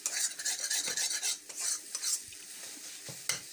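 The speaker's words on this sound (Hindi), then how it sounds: "अंडे को अच्छी तरह से मिक्स करेंगे, बहुत अच्छी तरह से मिक्स करना होगा।" Egg masala being mixed in a pan, quick close scraping and clinking of a spoon against metal with a faint sizzle underneath, in short uneven strokes.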